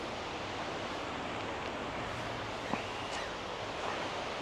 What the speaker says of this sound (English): you got the creek, river, whatever this is, right down here. You can hear it